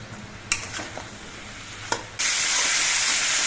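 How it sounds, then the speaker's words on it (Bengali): Vegetables for a mixed vegetable and prawn dish fry in a pan, with a couple of sharp spatula clacks followed by a sudden loud, steady sizzle that fills the rest. "এবার সবজিগুলোকে কিছুক্ষণ ভেজে নিতে হবে"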